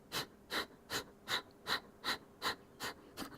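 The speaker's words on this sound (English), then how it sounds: "we're going to do some breathing. So exhaling." Sharp, short exhales through the nose during a breathing exercise in yoga boat pose, nine rhythmic puffs evenly spaced about every 0.4 seconds, close and soft, with no talking.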